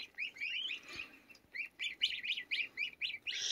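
Baby ducks and goslings on a ranch chirping in quick, high, repeated peeps, close by and fairly faint, with short bursts of calls overlapping one another and no talking.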